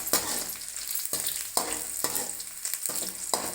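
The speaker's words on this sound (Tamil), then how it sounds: "இப்போ பூண்டு போட்டாச்சு. ஒரு வதக்கிட்டு அப்புறம் சுரக்காய் போட்டுக்கலாம்." Garlic and onions are sautéed in a hot pan, with a steady sizzle broken by repeated rhythmic scrapes of a spatula, about one every half second, close and clear.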